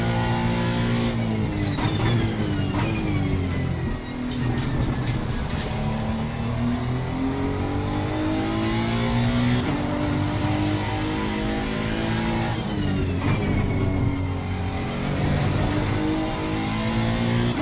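A Honda NSX EVO GT3 race car laps Kyalami Grand Prix circuit in Assetto Corsa Competizione, its engine note climbing through the revs with repeated upshifts and brief lifts, loud and continuous from an onboard perspective, no talking.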